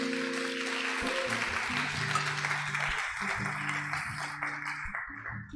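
Applause breaks out from a church congregation during a sermon, a steady wash of clapping over sustained organ or keyboard chords that carry on beneath it.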